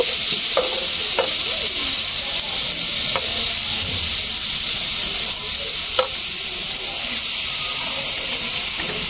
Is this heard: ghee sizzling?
yes